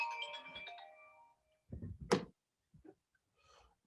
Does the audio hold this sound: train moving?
no